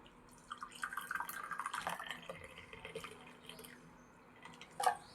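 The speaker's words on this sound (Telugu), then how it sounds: "ఇప్పుడు ఇట్లా పెట్టుకొని మనం ఇప్పుడు చాయ్ పోసుకుందాం." Chai tea poured out for dipping maska buns, a soft, quiet liquid trickle and splash that runs for a few seconds, then eases off and ends with a brief clink.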